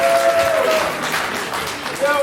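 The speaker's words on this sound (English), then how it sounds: "Give yourself a round of applause." Students at a level 4 improv showcase applaud themselves in a short burst of clapping, with talk and a brief tonal sound over it.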